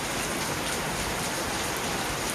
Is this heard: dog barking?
no